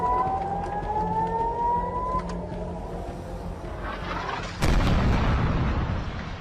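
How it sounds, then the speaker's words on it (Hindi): Air raid sirens sounding in Israeli villages near the Lebanese border to warn of incoming rocket attacks, a steady wailing tone slowly drifting upward over a noisy background, then cut off by a sudden loud boom-like burst of rumbling noise. "सीमा के पास बसे इजरायली गांवों में सायरन गूंज उठे, जो लेबनान से आने वाले रॉकेट हमलों की चेतावनी दे रहे थे।"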